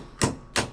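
A hammer strikes a punch to knock out a rear bicycle hub's cartridge bearings: two sharp, close metallic knocks about a third of a second apart, over a quiet background.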